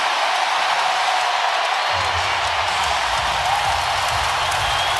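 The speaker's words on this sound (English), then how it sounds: "this crowd is just bonkers" A packed NBA playoff arena crowd for a Western Conference Finals game, Minnesota at Oklahoma City, roars in a dense, sustained wall of cheering that swells further partway through.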